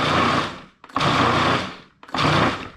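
Food processor blending chickpeas, a loud steady whirring motor running in three bursts separated by brief pauses, with no talking.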